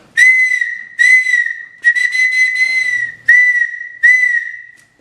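A handmade clay whistle gives a series of bright, piercing tones, some short and one held longer, loud and close with nothing else behind them.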